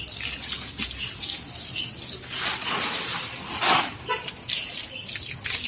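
Water splashes and pours over a plant pot being washed clean after repotting, a steady running stream broken by uneven gushes and drips, heard close by with no talking.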